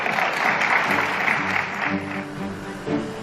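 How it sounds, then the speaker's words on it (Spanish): Applause after a vote on a Paris vehicle ban, a burst of clapping heard alongside voices and other background sound, fairly loud and short. "esto se merece un aplauso"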